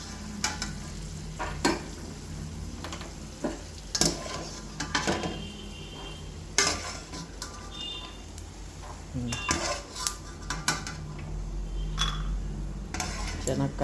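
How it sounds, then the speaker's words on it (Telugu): Peanuts frying in a pan while being stirred, close by, with repeated scraping and clinking of a utensil against the pan over a steady low sizzle. "ఇప్పుడైతే శనగకాయ పప్పు బాగా ఫ్రై అయ్యాయి"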